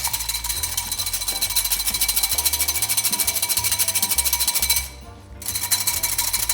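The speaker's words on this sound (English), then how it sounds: "Now I'm gonna whisk 1 egg white and try and get it frothy." Egg white being whisked until frothy, a fast rapid rattling beat from the whisk against the bowl, close and continuous, stopping briefly before resuming.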